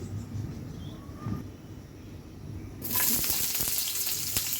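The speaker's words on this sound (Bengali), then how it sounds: "এরপরে হচ্ছে পেঁয়াজ ভেজে নিতে হবে দিয়ে দিতে হবে সামান্য পরিমাণ তেল" Onions go into a little oil in a pan: a quieter low rumble gives way to a sudden, loud, continuous sizzle close by, with scattered crackles.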